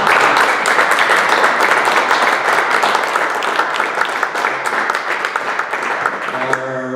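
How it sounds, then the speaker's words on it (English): An audience at a club meeting applauds, a dense, loud wash of clapping that holds steady for several seconds and begins to thin out at the very end. "Big round of applause."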